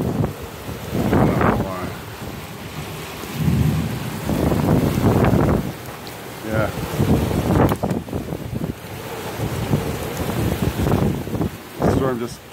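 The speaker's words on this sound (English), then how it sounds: "that hurricane just rolled in. The winds really kicked everything up pretty quick" Hurricane winds gusting over a dock on a river in New Jersey, with thunder and rain mixed into loud, continuous buffeting wind noise on the microphone; voices speak briefly amid the roar.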